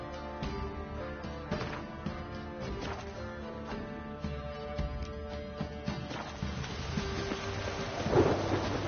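Steady rain pours down with rumbling thunder and scattered crashing impacts in the Witcher 3 video game, a dense, continuous storm wash with no voices.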